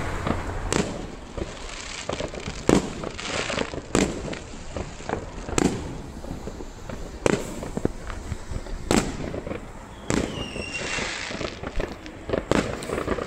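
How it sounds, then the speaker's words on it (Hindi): Fireworks on bonfire night in Bradford, with repeated sharp bangs every second or so over a constant crackling, popping background, some bursts near and loud and others farther off. "तो चलें आपको फायर वर्क दिखाते हैं जी।"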